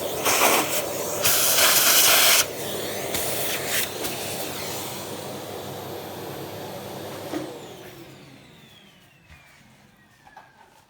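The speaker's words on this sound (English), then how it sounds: "like to put some WD-40." WD-40 sprays in loud, close, hissing bursts onto a 1984 Honda C70 Cub street motorcycle, then trails off into a fading hiss with a few faint knocks.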